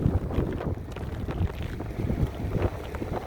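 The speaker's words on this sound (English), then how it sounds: "Windy, snowy." Gusty wind on a snowy day beside a railroad, a steady close, buffeting rush with low rumble throughout, loud and unbroken with no voices.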